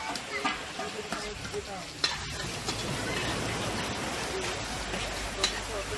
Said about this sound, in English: Oil, onion, And in goes the curry now.